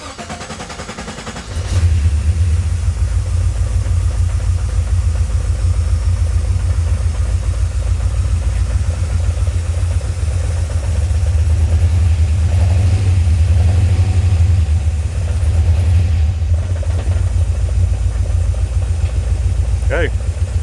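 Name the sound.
LS V8 engine idling in swapped Datsun 280Z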